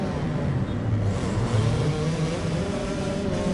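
A four-stroke motocross bike engine roars steadily in the video game MXGP, a continuous loud droning rev with slight pitch shifts and no pauses.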